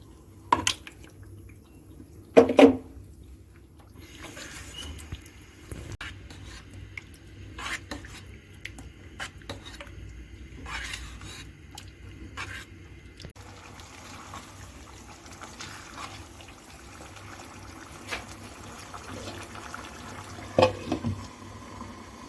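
Marinated chicken goes into a tomato-onion masala in a karahi and starts cooking, giving a soft wet bubbling and drippy simmer with a couple of brief louder clatters near the start and end, quiet overall and free of talk.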